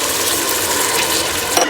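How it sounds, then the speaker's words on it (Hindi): Water pours into a pot of fried chickpeas for channa pulao, a steady close splashing hiss over sizzling oil that runs the whole moment with no talk. "अब हम इसके अंदर बर्तन के हिसाब से पानी डाल देंगे।"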